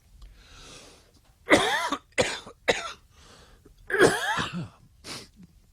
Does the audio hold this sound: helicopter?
no